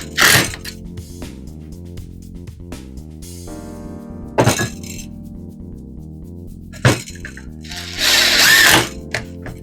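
A power driver fastens an electrical box to wood with screws in several short whirring bursts, a long final run near the end, over a steady background hum.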